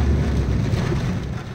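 Heavy first monsoon rain in Sangamner, a dense, steady roar of downpour with low rumbling, loud and close throughout, no voices.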